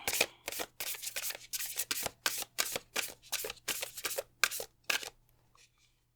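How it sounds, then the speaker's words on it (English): An oracle card deck is riffled and shuffled by hand at close range, making about a dozen crisp, rapid papery bursts in an even rhythm before it falls quiet. A faint hum runs underneath. "we just have one more Oracle deck to shuffle"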